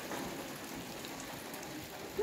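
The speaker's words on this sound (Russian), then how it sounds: "Это грибной дождь." Steady rain pours outdoors during a brief sun shower at a backyard shashlik grill, a dense even hiss of drops on surfaces filling the whole stretch, with no talk.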